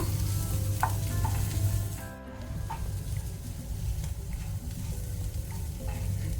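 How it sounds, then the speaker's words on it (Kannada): Dry fish frying in a pan with chili powder and turmeric, a steady dense sizzle with occasional stirring scrapes and clicks, close and continuous with a short dip partway through. "ಇದನ್ನೀಗ ನಾವು ಒಳ್ಳೆ ರೀತಿ ಫ್ರೈ ಮಾಡ್ಕೊಳ್ಳುವ"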